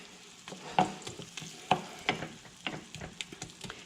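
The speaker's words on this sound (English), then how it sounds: "You'll hear there's lots of liquid in the pan. That's all the melted butter." Soft sizzling of melted butter in a pan for chicken liver pâté, with scattered light clicks and scrapes of a spoon stirring, fairly quiet and close.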